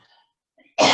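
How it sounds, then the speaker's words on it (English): One sharp, close cough breaks a near-silent moment at the end, with faint breathy sounds before it. "Excuse me, I have to cough."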